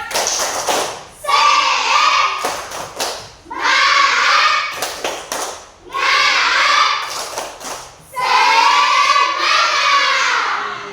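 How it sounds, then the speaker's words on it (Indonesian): Schoolchildren in an Indonesian classroom perform a rhythmic spirit clap in four bursts, each a couple of seconds long, separated by short pauses. The patterned claps and thumps come with loud group chanting. "Tepuk semangat."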